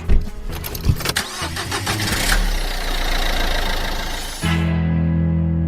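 A car engine cranks and catches in a short starting burst, then settles into a steady, fairly loud idle with a low hum as the car prepares to pull away from a gig venue.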